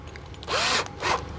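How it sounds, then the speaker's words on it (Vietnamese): A used Japanese cordless drill driver drills in two bursts, the first about a third of a second long and the second shorter, rising and winding down each time, up close over low background noise. "Rồi, giờ mình khoan cho anh em xem nè."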